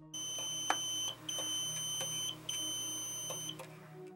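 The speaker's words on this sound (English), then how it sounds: "When the overwrite process is complete, the duplicator will beep 3 times." Aleratec 1:5 HDD Copy Dock duplicator sounding three evenly spaced electronic beeps, each about a second long, clear and close with a quiet hum under them.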